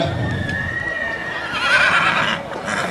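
An Estonian native horse neighs in a long, wavering whinny at an outdoor breed show, fairly close and loud, with some hoof sounds and crowd ambience underneath.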